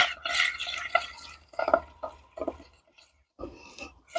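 Water sloshes and burbles in a bowl as it is stirred and bubbles are blown into it for resin craft. The close splashy bursts come in uneven pulses with brief pauses between them.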